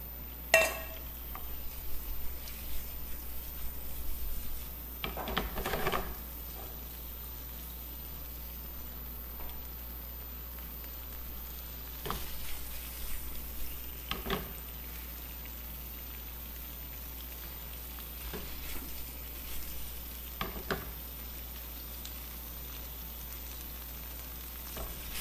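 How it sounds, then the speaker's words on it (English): Shrimp sear in hot oil in a pan, giving a faint, steady crackling sizzle that runs throughout, with a few louder pops and no talking. "It's sizzling already."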